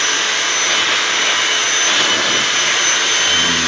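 A Hoover WindTunnel self-propelled vacuum cleaner runs steadily with a loud, constant motor whine and airflow roar, close up and without pause, used with a handheld attachment on a rug.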